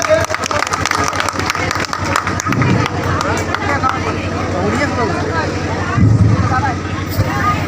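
Audience at a block-level health fair in a village panchayat clapping in a dense, steady burst, loud and continuous, with a voice talking over the applause and crowd noise.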